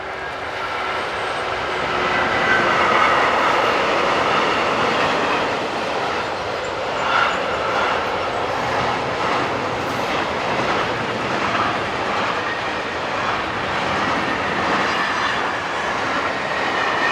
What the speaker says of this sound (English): 152074 heads south just a few minutes later, hauling this mixed freight